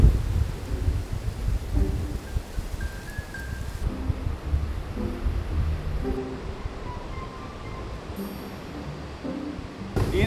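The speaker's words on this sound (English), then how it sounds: "It is windy today." Strong wind gusting on a windy morning at a chateau under rebuild, a loud, continuous rumble and buffet with shifting gusts and no talk.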